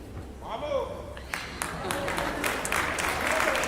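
Applause rises from an audience at a religious teaching session, starting under a speaking voice and building into a full, continuous burst of clapping.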